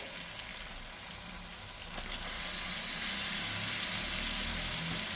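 Chicken liver goes into hot oil with browned spices and sizzles steadily up close, the frying hiss rising and growing denser after a brief clatter partway through.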